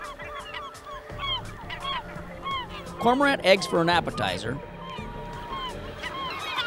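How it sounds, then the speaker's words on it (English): Gulls calling from a colony on False Duck Island in Lake Ontario, repeated close squawking cries that swell into a noisy cluster midway, with someone talking over them. "These false Duck Island gulls are having a heyday."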